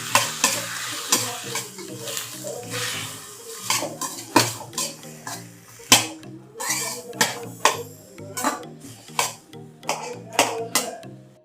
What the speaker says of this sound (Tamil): இந்த வெங்காயம்லாம் கொஞ்சம் நல்லா பச்சை வாசம் போகிற வரைக்கும் வணங்கணும்